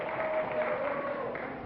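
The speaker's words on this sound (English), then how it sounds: "I think by the applause, the audience seems to think Miss Petesky will win" Studio audience applause on a 1964 television game show, a steady wash of clapping at moderate distance with a faint tone running beneath it.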